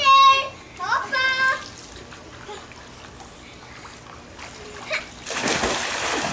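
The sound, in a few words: child jumping and splashing into water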